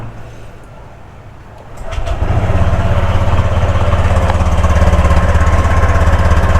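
A Honda Click 125i scooter with an overheating problem sits quiet for about two seconds, then its engine fires up and runs with a loud, steady buzzing idle close by.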